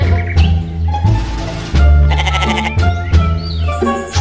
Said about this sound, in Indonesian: Wah, ternyata ini kambing teman-teman.